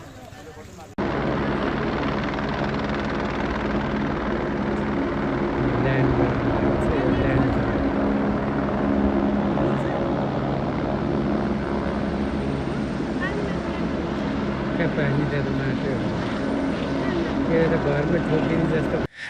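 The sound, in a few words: helicopters during flood rescue in Kathmandu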